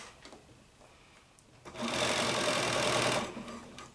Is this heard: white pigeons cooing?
no